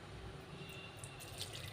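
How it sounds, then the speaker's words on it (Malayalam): Water poured into a pan of sardine and drumstick curry, a soft, quiet trickle with a few light splashes over a short stretch, no voices. "ഇതിൽ 1/2 കപ്പ് വെള്ളം ഒഴിച്ചിട്ടുണ്ട്"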